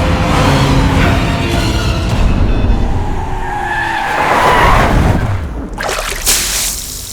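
A car's tires screech loudly as it speeds away, a long, harsh skid over a roaring engine that shifts in pitch and eases off near the end, with no voices.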